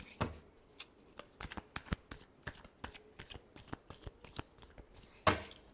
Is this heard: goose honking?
no